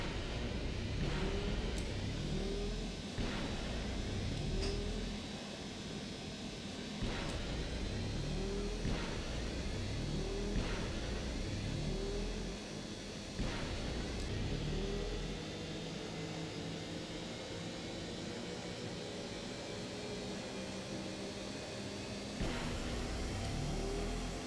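A swoop bike engine in the video game KOTOR 2 revs continuously, its pitch climbing and then dropping back with each gear shift, repeated throughout, along with sharp clicks and whooshes.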